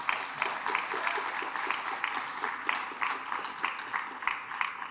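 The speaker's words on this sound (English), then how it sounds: "How about a round of applause for them, ladies and gentlemen?" An audience at a firefighters' awards banquet claps in a steady, moderate round of applause with a rhythmic patter and no voices over it.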